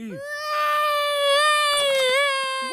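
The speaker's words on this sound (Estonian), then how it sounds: "Pisikesed titad nutavad kogu aeg. Nad teevad nii palju lärmi." A baby cries loudly and steadily in one long, high wail, with short whimpers at the start and end, in a Peppa Pig cartoon.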